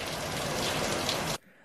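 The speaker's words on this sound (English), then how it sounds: "now it's raining cats and dogs" Heavy rain pours down in a dense, steady roar, then cuts off abruptly near the end, leaving quiet.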